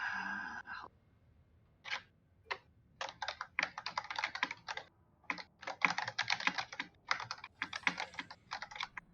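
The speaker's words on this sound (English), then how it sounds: "Furious typing." Rapid, furious typing on a computer keyboard comes in close, irregular bursts of clacking keystrokes after a short pause, with nothing else heard.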